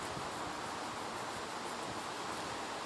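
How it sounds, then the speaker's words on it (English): Wind buffets a microphone outdoors beside a juniper bonsai cascade, a steady broadband rushing roar that fills the whole stretch evenly, with no voices. "It's a little windy today."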